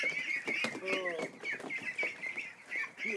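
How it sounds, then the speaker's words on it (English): Young ducks in a barn give off a busy run of high, raspy peeping and chattering calls, close and continuous, with a few deeper quacking notes mixed in. "young ducks have got to be the most frustrating duck in the world to work with"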